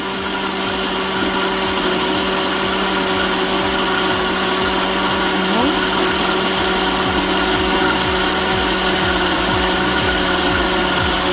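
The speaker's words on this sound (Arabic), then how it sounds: "صوت الخلاط ابتدى ان هو يهدى بعد ما كان شغال بسرعه" A blender runs continuously while mixing toum garlic sauce, a loud steady motor whine with a rapid chopping rattle underneath, close by and alone without speech.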